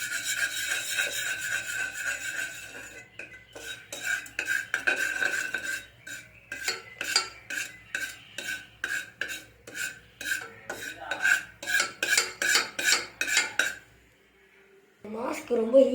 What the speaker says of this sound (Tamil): இப்போ என்ன பண்ணணும்னா நல்லா மிக்ஸ் பண்ணி விட்டுக்கணும்